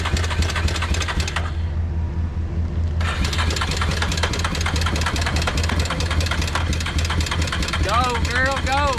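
An old four-wheeler ATV engine, recently revived after 20 years of sitting, runs with an uneven, knocking mechanical rumble that briefly drops out and returns, while voices talk over it close by.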